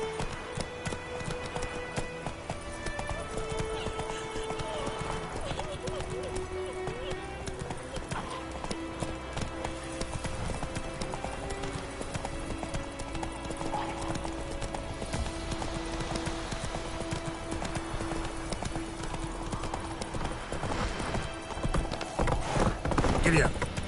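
Hoofbeats of a horse being ridden in The Witcher 3 game clip-clop steadily and continuously under game music and ambient sound, growing slightly louder toward the end.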